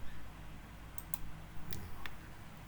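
A few sharp, quiet mouse clicks on a computer, spaced apart and heard alone against a low background hum.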